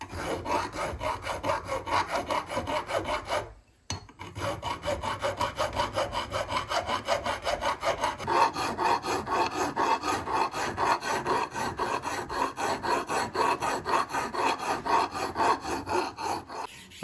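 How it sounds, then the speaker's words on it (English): A strip of sanding belt is pulled back and forth through the steel basket guard of a parrying dagger, a rapid rhythmic rasping scrub that runs continuously, close and fairly loud, with one brief pause. "I found that thrumming with a piece of a sanding belt was the most effective way to clean up and polish the basket of the guard"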